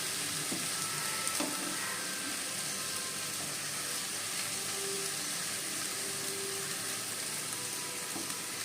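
Ash gourd curry is stirred and turned in a hot pan, a steady close sizzle running throughout with faint occasional scrapes of the spoon.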